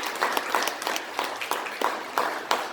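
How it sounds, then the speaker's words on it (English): A church congregation applauds veterans during a Sunday service, a sustained round of clapping heard from a moderate distance, with some sharper individual claps standing out at an uneven rhythm. "let's give another round of applause to our veterans"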